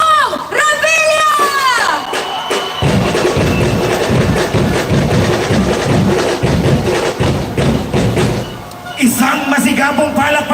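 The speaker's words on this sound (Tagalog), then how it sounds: "Malakas na sigaw at muli para kay Senator Bong Revilla!" A large crowd at a Philippine political rally in Mandaluyong for Senator Bong Revilla roars, cheers and shouts loudly and continuously, with an amplified announcer's voice over the din at the start and end.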